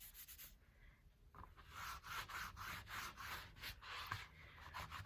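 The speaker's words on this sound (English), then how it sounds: "Now I'm going to wipe it off." Cloth wiping Tandy Eco-Flo Professional Waterstain off a leather surface, a steady close rubbing and scuffing with repeated strokes throughout, no voices.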